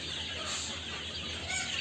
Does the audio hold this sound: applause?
no